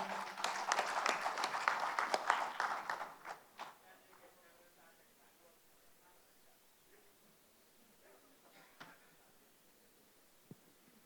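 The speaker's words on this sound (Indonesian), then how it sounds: "Tepuk tangan yang meriah." Audience applause at an Indonesian PPP party political gathering, a dense burst of clapping that swells for a few seconds and then fades out, followed by quiet room tone with a few faint knocks.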